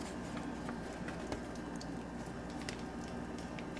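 Marinade pours from a bag over a smoked pork shoulder, making a faint, steady wet squish and patter that runs continuously without pause.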